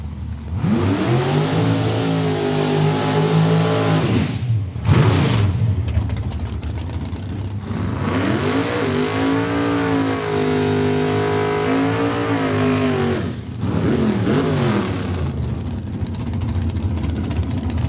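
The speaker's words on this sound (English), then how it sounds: "heading to the starting line, the yellow Malibu out of Pilot Butte" Race car engines growl loudly at a drag strip as a yellow Malibu rolls toward the starting line, pitch rising and falling through revs with brief drops between pulls.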